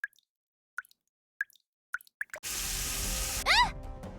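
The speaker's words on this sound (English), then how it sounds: "Water's coming from the ceiling!" Water drips and plops from the ceiling in the video game Nikke: several sharp, separate drops spaced about half a second apart, then a loud wash of splashing water with bright rising tones on top.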